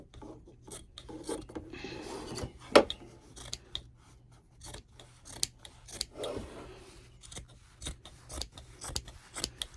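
Scissors trim excess fabric from a machine-embroidered in-the-hoop card holder with several close, rasping snips in irregular bursts and quiet pauses between cuts. The scissors are dull and in need of sharpening.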